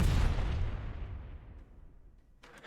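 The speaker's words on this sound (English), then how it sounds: "the sound is a bit too long for this short explosion" A stock explosion sound effect auditioned for a short visual blast in an Unreal Engine Niagara effect: a loud low boom that rolls into a long fading rumble, with no voices.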